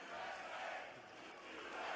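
A large crowd at a Trump rally in Michigan roars and shouts back in unison, a dense, loud swell of voices that dips briefly midway and rises again.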